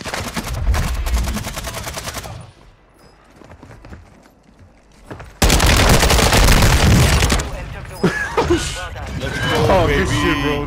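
Warzone 2 Resurgence quads match on Ashika Island: rapid bursts of automatic rifle fire from a 30-round magazine, loud and close, with a brief lull midway, while players talk excitedly over the shooting.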